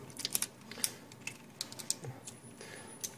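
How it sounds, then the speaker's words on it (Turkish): Computer keyboard being put back together, with faint scattered plastic clicks and taps arriving irregularly in small clusters against quiet background. "Şimdi klavyemizi tekrar toparlayalım."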